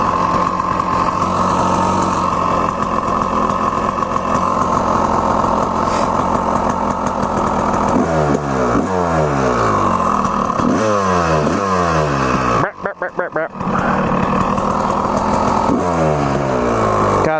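A Honda CR250 two-stroke dirt bike engine runs loud and close, rising and falling through repeated revs and gear changes, with a brief cutout near the end before it picks up again.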